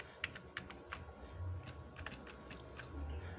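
Computer keyboard keys clack in a few quick, light presses, faint and close against a low background hum, with no talking.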